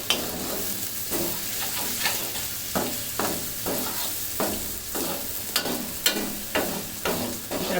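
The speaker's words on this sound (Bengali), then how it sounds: "এখন এই মশলার সাথেও কিছুক্ষণ আবার ভেজে নিতে হবে" Ginger, garlic, chilli and onion frying with spices for Bihari chicken, a steady loud sizzle with repeated scraping stirs roughly every half second, no voices.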